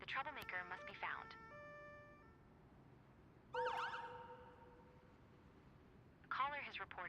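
Police car siren from the Global Rescue emergency-services game, wailing and yelping in three separate bursts with quieter gaps between, under a soft constant background.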